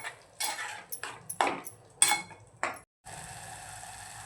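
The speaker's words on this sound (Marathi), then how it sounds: "1-2 मिनिटं आपल्याला छान मिक्स करून घ्यायचं आहे." Spoon scraping through a thick Malvani crab curry masala with coconut paste in a pan, a series of sharp clinks and scrapes for about three seconds, then a faint steady sizzle continuing alone.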